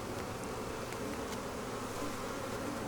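Honey bees swarm and drone around an open hive during an inspection of hot colonies in a bee yard, a dense steady buzz with a few nearer wingbeats flicking past the microphone throughout.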